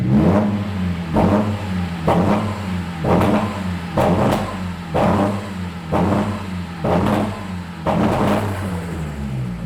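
Nissan 200SX with an SR20DET engine held at full throttle against a low rev limiter, cutting out in a steady rhythm of about eight pulses, loud and close with no talk.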